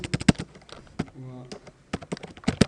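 Keys clatter on a computer keyboard in quick uneven bursts of typing with a short pause in the middle, while a person talks over the tapping.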